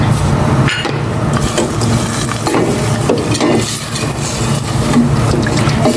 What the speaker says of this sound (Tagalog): Paglagay na ako ng tubig.